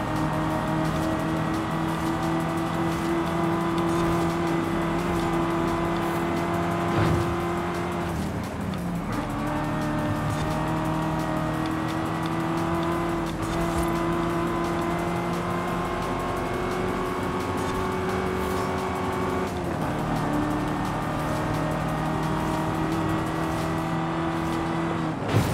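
Race cars in Forza Horizon 5 held at a loud, steady engine drone, pitch stepping down at a few gear changes or braking points, with faint tire noise beneath.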